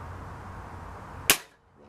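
A single sharp, close crack from a classic BSA Airsporter Mk6 air rifle, fired outdoors after a steady windy hiss, then a quick fade to quiet.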